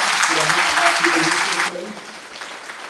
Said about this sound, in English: can we give a round of applause to all of them?